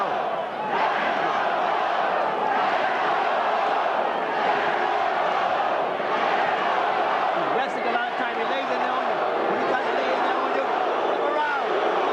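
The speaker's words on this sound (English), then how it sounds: "The other half of the crowd, or 2/3 of the crowd, started to boo." A boxing arena crowd boos during a heavyweight bout, a dense, continuous roar of many voices that holds steady throughout, loud and close.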